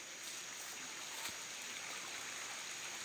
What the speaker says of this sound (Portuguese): Esse barulhinho de água é bom demais, eu gosto.